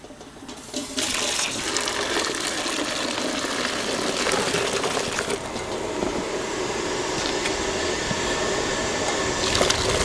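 Liquid for organic pottery paint poured through a mesh strainer into a smaller pot, a steady rushing, splashing pour that runs loudly and continuously for the whole stretch.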